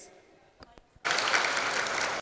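An audience at a TV talent show grand finale applauds contestant Paramjit Singh, a sudden, full burst of clapping lasting about a second after a few faint sounds.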